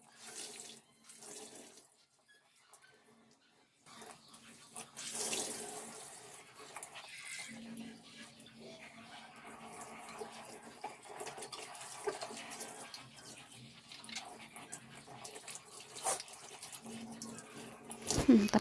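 Water runs from a faucet into a kitchen sink as it is cleaned out after dishwashing, a steady splashing stream with faint clatter, growing louder toward the end.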